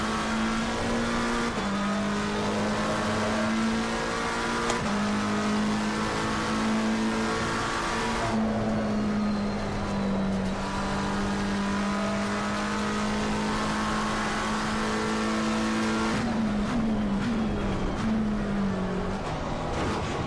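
A McLaren GT race car in Assetto Corsa Competizione drones loudly and continuously at high revs, with a few brief gear-change dips and a rising tone near the end.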